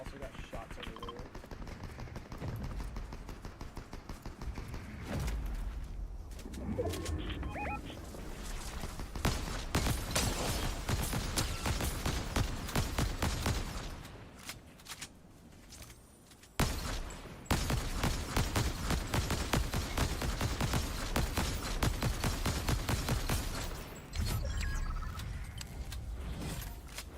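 Rapid bursts of gunfire in a Fortnite match, including the Explosive Repeater, rattle almost continuously across the scene, pausing briefly midway, with game effects layered underneath and a voice talking at times.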